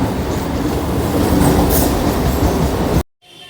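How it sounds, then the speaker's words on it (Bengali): A train bound for Sealdah rumbles past nearby in Phulia, West Bengal, with a steady clattering roar, cutting off abruptly near the end to leave quieter background noise. "এই ট্রেনটি যাচ্ছে শিয়ালদা।"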